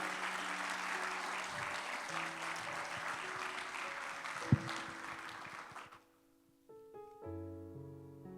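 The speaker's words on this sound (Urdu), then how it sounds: "ایک دفعہ زوردار تالیاں خدا کے نام کے لیے بجا دیں۔" A church congregation in Dubai claps loudly together in praise during a Sunday sermon, a dense sustained round of applause that cuts off sharply, followed by soft keyboard or organ tones.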